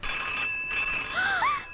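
A telephone rings close by with a short electronic warble, high chirping tones rising and falling over a faint steady hum, as in a 2001 Hindi film scene.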